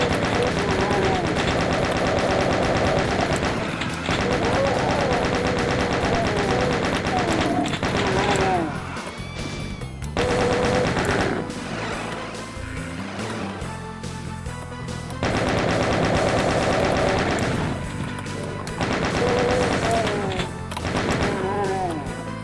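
Chaingunner enemies firing machine guns in a video game, dense sustained rattling bursts loud throughout with a brief lull in the middle, mixed with game music and explosions.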